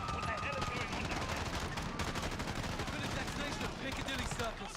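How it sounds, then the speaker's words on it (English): Dense rapid automatic gunfire from Call of Duty: Modern Warfare (2019) rattles on continuously, loud and close, with bursts running together and a voice talking faintly underneath. "Shots fired."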